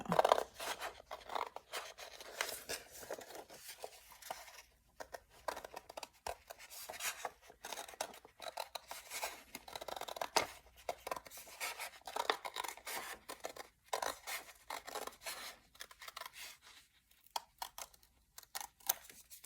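Scissors snip pieces of paper for a handmade journal signature, a quiet, close series of irregular crisp cuts and paper rustles with short pauses between strokes.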